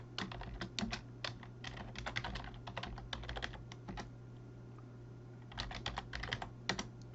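Numbers typed on a computer keyboard in quick bursts of light, crisp key taps, close by, with a short pause midway before the tapping resumes.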